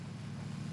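A boat in the PUBG battle royale game drives toward the players, heard as a steady, low engine drone that holds for the whole short moment with no talk over it.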